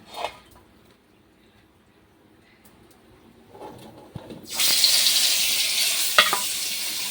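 Fish frying in a pan in a home kitchen, a loud broad sizzle that starts abruptly partway through after a quiet stretch with faint bird calls, then holds steady with a few crackling pops.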